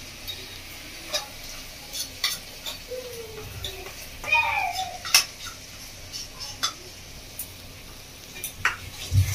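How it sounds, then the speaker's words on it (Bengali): Spiced yogurt frying in a pan for a prawn malai curry, with scattered clinks and scrapes of a spoon against the pan over a faint sizzle, and a brief stretch of vocal sound partway through. "দই একটু ভালো করে কষিয়ে নেবো মশলা দই দিয়ে।"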